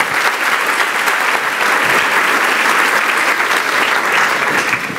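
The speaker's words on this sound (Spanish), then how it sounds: "¿Le das un aplauso a Jesucristo de Nazaret?" A church congregation bursts into loud, sustained applause for Jesus Christ of Nazareth, dense clapping filling the room at an even level from start to finish without speech.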